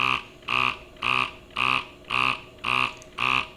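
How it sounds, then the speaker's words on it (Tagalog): A Medela Freestyle Flex breast pump motor cycles in a steady rhythm of seven short whirring pulses, each about half a second apart, close and moderately loud with no talk. "Okay, so yan yung tunog ng Medela Freestyle Flex."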